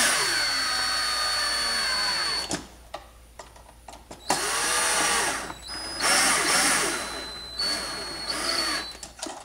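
A power driver tightens screws down into holes during Christmas light controller assembly, producing several whirring bursts with short pauses between them, close and fairly loud, with no one talking.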